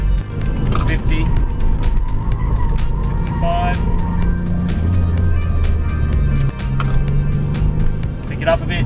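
A car accelerates hard through the corners of a small test circuit, its engine note rising and falling over rumbling tires with occasional squeals, while someone talks throughout.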